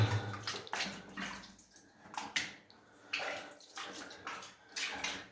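Water sloshes and splashes in repeated bursts as boots wade through a shallow stream inside an old gold mine tunnel, close by and echoing, with no talk.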